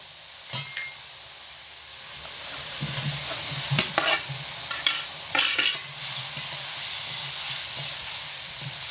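Fried potatoes hit hot oil and cooked spice masala in a pan, raising a steady close sizzle with scraping stirs and occasional clinks from a spatula against the pan.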